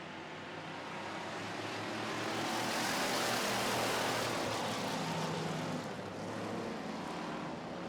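A pack of pure stock race cars thunders around a track as the race begins, a dense, continuous engine roar that swells to a peak midway and then eases slightly, with no voices.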